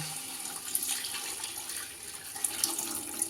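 Chicken stock pours steadily into rice in a continuous soft, splashing stream, fairly quiet and close, with no talking.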